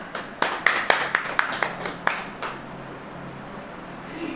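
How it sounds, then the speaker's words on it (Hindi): A church congregation clapping hands, about ten sharp claps in an uneven rhythm over two and a half seconds, moderately close, then fading into quiet room tone. "ताली बजाइए।"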